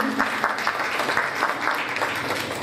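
Loud, sustained audience applause at an Urdu literary gathering in Bhopal, many hands clapping densely and steadily throughout without a break.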